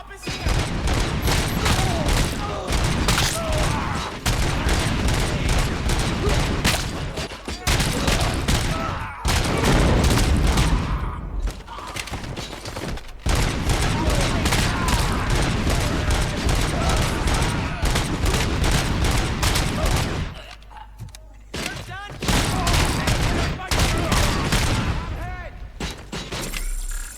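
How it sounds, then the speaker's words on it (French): Gunfire in Robocop: Rogue City rattles in dense, rapid bursts almost without a break, loud and close, with two short lulls and occasional game voices mixed in. "Il y a un connard qui me tire dessus"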